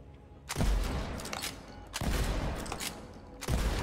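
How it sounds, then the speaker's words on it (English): Shotgun blasts from the video game Borderlands 3, three loud booming shots spaced about a second and a half apart, each with a sharp attack and a short rumbling tail. "Maybe let's try with a different shotgun."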